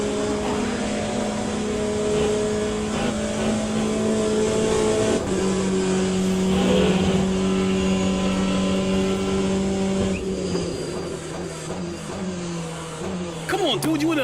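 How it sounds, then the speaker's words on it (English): Hypercar engines race in the Le Mans Ultimate sim, a loud steady high-pitched whine of several cars running together, with the pitch shifting as they charge through. "Boy, these hypercars are charging in here."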